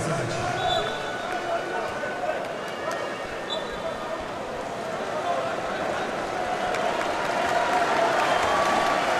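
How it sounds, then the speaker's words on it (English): Steady crowd applause fills a handball arena at a men's European championship match, a broad continuous roar of clapping and cheering that swells slightly toward the end, with a commentator talking over it. "A big round of applause"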